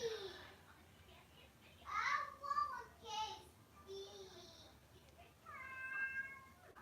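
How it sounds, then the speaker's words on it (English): A talkative cat meows repeatedly indoors in the morning, a string of short and drawn-out calls with brief gaps between them, quiet and fairly close. "cat is very vocal this morning."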